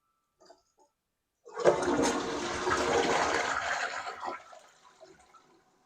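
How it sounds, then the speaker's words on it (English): A newly installed toilet fitted with a wax ring flushes with a loud rushing swirl of water lasting about three seconds, then drains and tapers off to a quieter refill trickle, heard alone with no talking. "Let's give it a flush."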